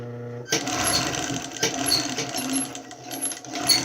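A sewing machine stitches blue and white fabric pieces for a face mask in short, uneven bursts with small clicks and taps between runs, close by and moderately loud.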